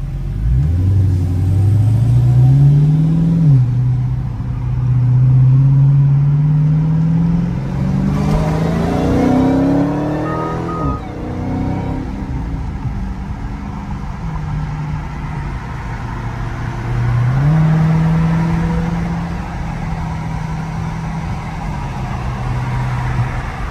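A Dodge Challenger Hellcat engine roars from inside the car as it accelerates, its loud rumble rising in pitch through several gear changes before settling back to a steady cruise.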